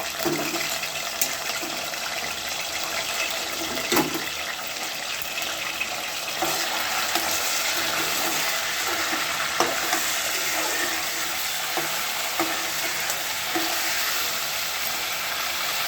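Chicken pieces for pickle deep frying in hot oil, a steady bubbling sizzle throughout with occasional louder crackles and stirring clicks, close and fairly loud with no talk.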